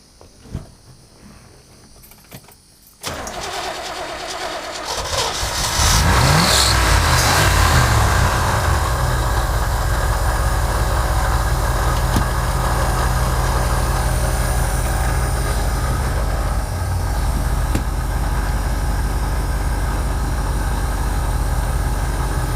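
An engine with a slightly leaking carburetor starts after a few quiet seconds and settles into a steady, loud, close idle with a constant rumbling drone that runs unbroken to the end.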